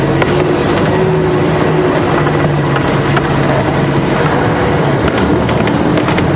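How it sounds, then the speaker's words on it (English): Vehicle engine on a private game reserve safari track at Djuma, a steady broadband motor rumble with an approaching car, continuous and fairly loud throughout without clear speech. "And another car coming."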